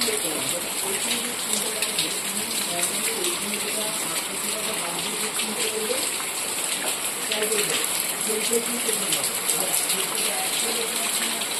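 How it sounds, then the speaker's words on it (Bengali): Heavy rain pours steadily with a broad, hissing wash of water, continuous and fairly loud; faint voice-like sounds may sit beneath the downpour. "ভীষণ বৃষ্টি হচ্ছে প্রচুর প্রচুর প্রচুর বৃষ্টি হচ্ছে"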